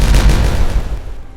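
Dynamite detonating in the beaver colony-building game Timberborn: a single loud, deep boom with a rumbling tail that fades over about a second.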